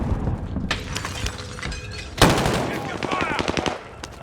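Rapid automatic gunfire and sharp shots crackle through a firefight in Death Stranding, loud close bursts with a heavy blast midway, with a voice speaking over parts of it.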